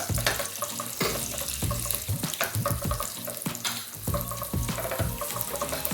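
Cashews and other dry fruits fry in a pan with a dense, loud sizzle and repeated scraping and stirring strokes throughout.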